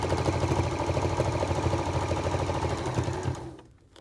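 Sewing machine stitching steadily through a quilted oven glove, a fast rhythmic mechanical chatter running continuously for several seconds before stopping abruptly; close and moderately loud, with no talking.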